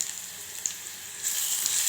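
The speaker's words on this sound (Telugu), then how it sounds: "ఈ మామిడికాయ తురుముని కూడా ఆయిల్లోనే ఇలా వేయించుకోవాలి." Grated raw mango sizzles as it fries in hot oil, a soft steady hiss that grows a little louder partway through, close and brief, with no one speaking.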